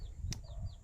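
A hen with chicks clucks softly nearby in a brief moment, with a short sharp peep and faint chirps over low outdoor rumble.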